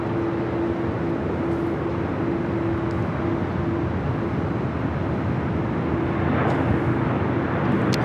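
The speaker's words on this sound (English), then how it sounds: "Flight arriving was a Gulfstream G650ER" Gulfstream G650ER business jet arriving at Los Angeles International Airport, a broad, steady engine rumble at moderate distance with a sustained tonal whine, swelling slightly toward the end.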